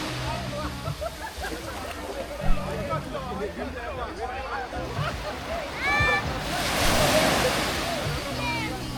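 Ocean waves wash onto Questelles Beach in St. Vincent with a surging surf roar and wind, under busy chatter from a crowd of people.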